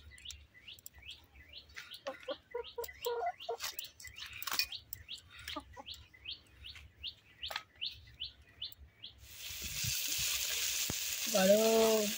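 Fish, a pabda, frying in a pan in a Bengali home kitchen: a steady loud sizzle rises near the end after a stretch of chirping birds, with a brief voice over the frying.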